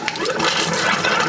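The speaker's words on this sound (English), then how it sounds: "it's going to gurgle and play around like that for a while" Air and water sputter and gurgle out of a household sink tap as the plumbing is blown out for winter, a steady close rushing splutter lasting throughout with no talk.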